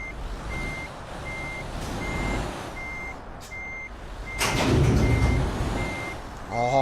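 Truck reversing into a garage in Euro Truck Simulator 2, giving evenly spaced backup beeps over a low engine drone, with a louder hiss or air-brake burst partway through and no speech.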